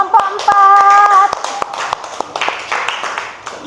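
A classroom claps for group four after its presentation, scattered hand claps close by with a short high tone at the start, then lighter uneven clapping fading under faint voices.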